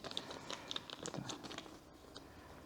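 Compostable plastic packet from a Flytanium customization kit crinkles and crackles in a series of soft, close, irregular rustles as it is handled, fading toward the end.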